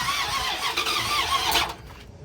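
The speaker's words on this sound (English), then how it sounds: "You can hear it trying to start up and engage, but just turning over." A 1996 Dodge Ram 1500 pickup with a V8 Magnum engine cranks without catching, a close, whirring starter drone with a squealing edge that cuts off after about two seconds, leaving quiet.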